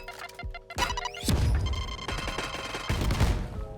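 A Raze grenade in Valorant goes off as a series of sharp, loud blasts, a cluster of close cracks and booms over a couple of seconds that ends with another burst.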